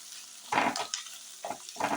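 Chillies and onions sauté in a pan, with short bursts of sizzling and stirring broken by near silence, close and moderately loud.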